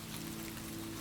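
Rain falls on a Scandinavian fjord at sunset, a steady even patter of drops spread across the surroundings with no break and no voices.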